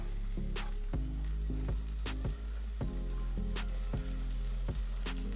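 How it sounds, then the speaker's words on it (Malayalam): Onions sizzle steadily in hot oil for prawn biryani, with a loud, continuous frying hiss broken by repeated stirring scrapes and clinks close by. No one speaks. "ഇതിലേക്ക് ഞാൻ സവാള ഇട്ട് കൊടുക്കുന്നുണ്ട്"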